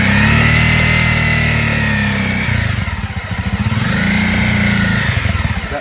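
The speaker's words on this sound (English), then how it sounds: "I'll take off a couple times fast" A motorcycle pulls away hard from a stop, its engine roaring loud and close, dipping briefly, then revving up again in a second surge.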